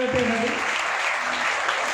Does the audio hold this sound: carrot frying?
no